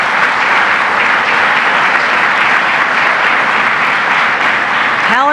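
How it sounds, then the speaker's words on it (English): An audience gives a round of applause for Syracuse Mayor Ben Walsh: loud, sustained, evenly dense clapping from a large crowd, with a voice starting to speak just as it winds down. "let's give a round of applause to Syracuse Mayor Ben Walsh"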